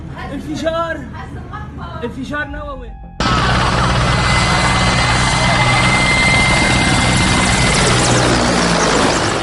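A helicopter's rotor downwash starts abruptly as a loud, dense roar of wind and engine that keeps on steadily for several seconds, after a few seconds of a person talking.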